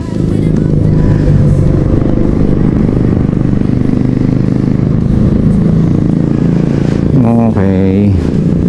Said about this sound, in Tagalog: Grabe yung motor, ganun yung singit